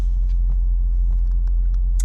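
A 2020 Ford Explorer ST idles with a low, steady, quiet rumble heard close by, with a few faint ticks and clicks over it.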